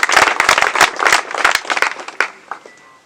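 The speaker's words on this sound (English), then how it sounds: "A round of applause." Close, loud clapping from a small crowd of officers at a promotion ceremony of an anti-crime unit, a quick burst of hands that thins out and fades within about three seconds.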